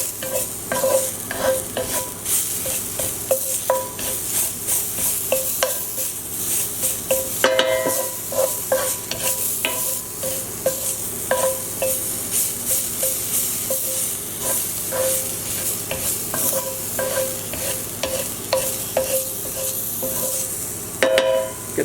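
Garlic sizzles in a hot pan, stirred with a wooden spoon: a continuous loud frying hiss with regular scraping and tapping strokes throughout, close up and without speech.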